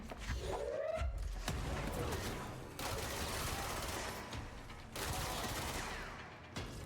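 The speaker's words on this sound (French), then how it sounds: "on a la classique mitraillette qui est moins précise mais plus rapide" Rapid submachine gun bursts in the video game Control, loud crackling volleys broken by short pauses, with a brief sweeping tone near the start.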